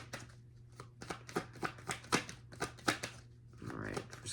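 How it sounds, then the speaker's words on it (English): Tarot cards shuffled by hand give a quick series of crisp riffling taps and slaps, close and fairly quiet over a low steady hum. "Let me see your cards here."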